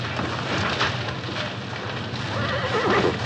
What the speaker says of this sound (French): Aidez-moi à faire sortir les chevaux!